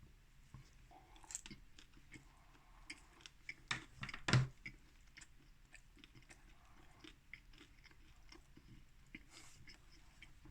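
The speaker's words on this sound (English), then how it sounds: "Bit the end off, and now it's just rock solid. I'll really chew it, get through it." Close, crunchy chewing of a hard, rock-solid Snacksters chicken tikka naan snack, with irregular bites and a louder crunch midway, no talking.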